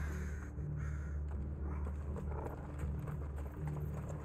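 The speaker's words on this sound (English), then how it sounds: "They're crows." Crows in Final Fantasy XVI cawing faintly over low rumbling ambience and hoof-like clopping, the calls soft and intermittent.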